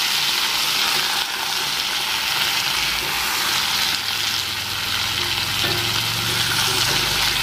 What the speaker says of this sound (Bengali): আগে টমেটোটাই দিয়ে দিই